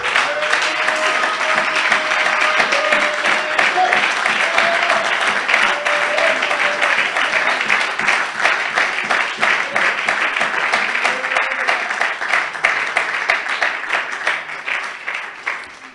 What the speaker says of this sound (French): Mais vous acclamez comme si vous avez peur.